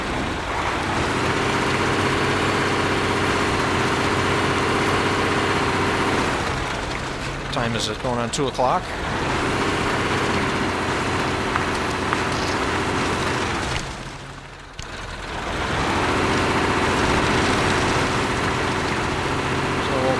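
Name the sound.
truck engine idling, from the video game MudRunner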